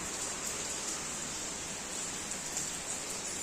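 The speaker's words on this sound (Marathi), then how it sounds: "पाऊस येतो म्हणून मनी आत आली" Steady rain falls with an even, continuous hiss and no pauses. No voices are heard.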